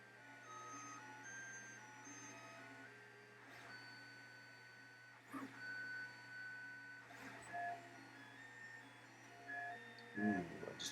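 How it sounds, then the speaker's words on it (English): A 3D printer running in a quiet room, faint stepper-motor tones that hum and shift pitch steadily, with occasional soft whooshing movements and a few ticks near the end. "Yeah, Heather, you are hearing my 3D printer."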